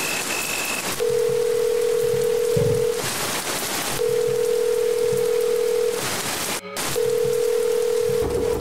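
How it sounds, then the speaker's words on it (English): A phone dialing tone in a visual novel game plays as repeated long steady beeps of about two seconds each with short gaps, over a constant background hiss like rain. "Pulling her phone out and dialing Matt"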